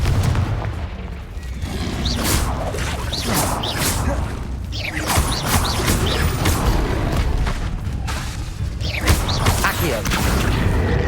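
Fire-spell blasts and booming magical impacts in the Hogwarts Legacy video game, a dense run of loud crashes and whooshes with battle clatter, under an intermittent speaking voice.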